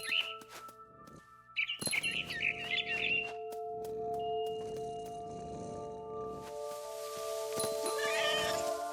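A cat meows in a video game scene, with a few short mews early on over sustained background music, followed by softer rustling and a faint bird chirp near the end.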